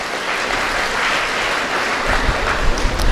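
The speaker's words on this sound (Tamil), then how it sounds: "உண்மையாக இருந்தால் கைத்தட்டுங்க, இல்லைன்னா விட்டுருங்க." A seated audience at a Tamil speech event gives a short burst of clapping that stays dense and fairly loud throughout, with no talk over it.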